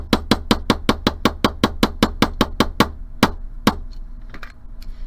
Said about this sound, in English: when you're done with your hammering